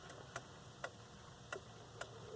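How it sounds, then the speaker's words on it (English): Leick pendulum quartz clock with a mechanical chime, ticking at an even pace, five sharp close ticks about half a second apart over a quiet room hum. "However, this one makes a ticking noise."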